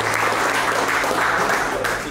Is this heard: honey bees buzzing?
no